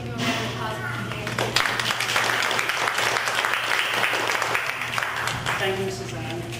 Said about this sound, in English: I'd just like to give you a round of applause for today